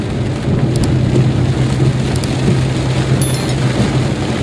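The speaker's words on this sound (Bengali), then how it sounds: "বেশ মুষলধারে বৃষ্টি হচ্ছে" Heavy monsoon rain drums steadily on the roof of a car driving through green countryside, a loud, constant dense patter with the low rumble of the vehicle beneath.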